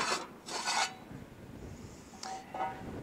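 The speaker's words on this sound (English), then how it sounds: "and then I have to remove this cover." Metal cover being removed from a CLAAS LEXION combine during a 100-hour service: a few short scraping, rasping bursts near the mic, then a brief metallic clink and a final scrape, with quiet gaps between.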